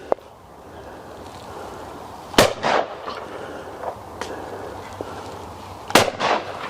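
Two loud shotgun blasts at clay targets crack out a few seconds apart outdoors, each followed by a short rumbling echo over quiet background noise.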